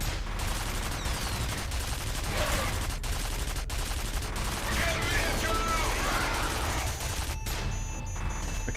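Rapid bursts of mounted turret gunfire in the shooter F.E.A.R., a continuous rattling fusillade with crashing impacts, dense and loud throughout under occasional talk.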